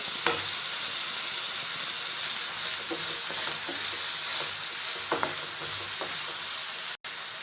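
Potatoes go into hot oil already seasoned with fennel seeds, bay leaf and asafoetida for Kolkata-style samosa filling, and a steady, loud, continuous sizzle with occasional stirring scrapes holds throughout.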